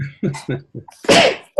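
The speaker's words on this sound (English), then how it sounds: "I'm sneezing and coughing," A person sneezes once, a sharp, breathy burst following a few short, clipped vocal sounds, loud and close.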